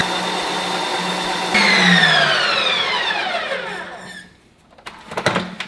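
An ice cream maker spinning a Fairlife milk ice cream mix: a steady mechanical whir that rises in pitch and fades away, followed by a few clattering knocks at the end. No one speaks.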